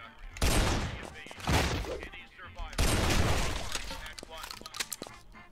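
A shotgun fires in the video game Guns, Gore and Cannoli, with heavy booming blasts and shattering debris in repeated bursts amid chaotic game action, while a person talks over it.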